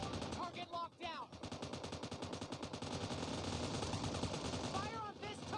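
Rapid automatic gunfire bursts from the battle-royale video game PUBG, loud and sustained with clattering shots and brief pauses, layered over in-game noise.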